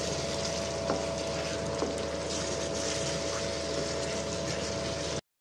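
Spices sizzle softly in a little oil for Bengali mutton kosha, made with Kashmiri chilli, cumin, turmeric and coriander powders, a steady close frying hiss with a faint hum running through it and no voice.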